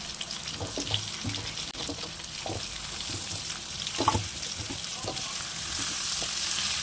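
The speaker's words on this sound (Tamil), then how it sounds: "இந்த டைமில் கொஞ்சமாக நான் எடுத்து வச்சுருக்க வெங்காயத்தை சேர்த்திக்கிறேன் அப்புறம் உருளைக்கிழங்கும் இது முருங்காயும் சேர்த்துக்கிறான்" Onion, potato and drumstick pieces sizzle in a hot pan for chicken curry, a steady close frying hiss broken by scrapes and stirring knocks, no talk.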